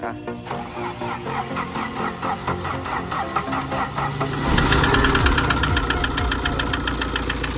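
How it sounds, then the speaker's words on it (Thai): Tata diesel engine with hard starting, idling with a loud rhythmic internal knock, rattly and close; partway through the revs rise and the knocking grows heavier and denser. "มีเสียงเขกดันเลย เบิ้ล ดังข้างในนะ"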